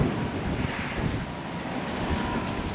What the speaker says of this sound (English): Oh, extremely windy down here today.